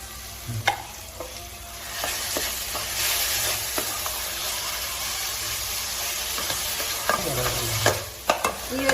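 Carrot halwa being stirred and fried in ghee in a pan, a steady close sizzle with scraping spoon strokes throughout, no talking.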